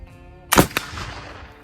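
A single sharp black powder gunshot cracks loudly, followed a moment later by a smaller second report and a short decaying echo, with no talk.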